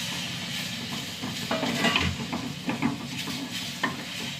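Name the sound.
tomato sautéing in a pan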